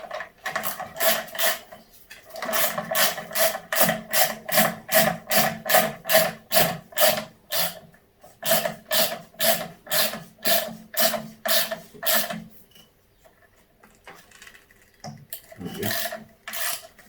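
A ratchet wrench tightens a big bolt on a DR200 motorcycle, fast rhythmic clicking in steady bursts with short pauses between strokes, close and clear.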